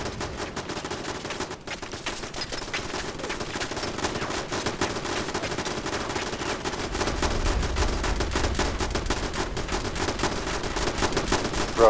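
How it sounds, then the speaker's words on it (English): Automated turrets in the video game Fallout 76 fire nonstop at nothing, a loud continuous rattle of rapid gunfire that thickens and grows heavier in the second half. "My turrets are all going like absolutely bonkers right now, just shooting at nothing."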